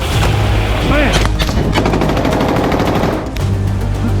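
Rapid bursts of automatic gunfire during military unit training, loud and continuous, with shouting voices mixed in.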